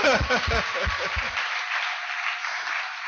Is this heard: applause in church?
yes